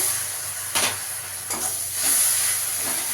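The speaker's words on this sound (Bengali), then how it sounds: "টমেটোটা দিয়ে একটু ভেজে নেব" Tomato frying with browned onion in a pan, a continuous close sizzle and hiss with a few distinct scraping stir strokes at intervals, no talking.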